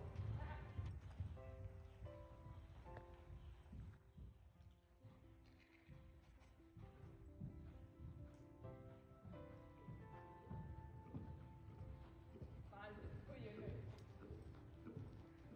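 Rhythmic hoofbeats of a horse cantering in a riding lesson, with a person talking over them throughout.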